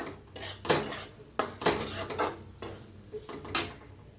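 Karanji filling of dried coconut being roasted and stirred in a pan, with a spoon scraping and clinking against the metal in repeated close strokes, no talking.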